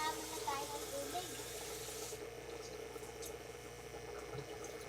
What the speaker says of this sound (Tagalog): Ipon na muna tayo ng tubig.